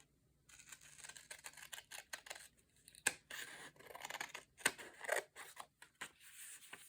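Scissors snipping through junk journal paper, a series of quiet close crisp cuts and rustles in irregular bursts.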